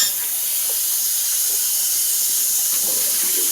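A running tap splashes water into a sink while a shaving brush is rinsed under it, a steady close hiss with faint clinks throughout and no talking.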